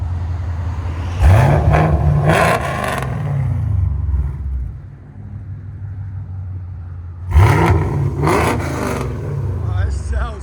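A Chevy Camaro LT1 6.2L V8 tuned for E85 fuel, with headers and OBX mufflers, revs hard twice with rising roars that settle back to a rumbling idle between them, loud and close, with people talking nearby.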